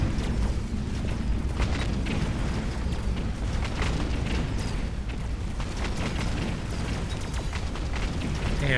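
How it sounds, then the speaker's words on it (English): Anti-tank shell volleys in the mech strategy game Mechabellum: a dense, continuous barrage of booming explosions and bursts, loud and sustained throughout with no pauses or voices. "with the anti-tank shells, you can see just how much damage these are doing. Watch this volley."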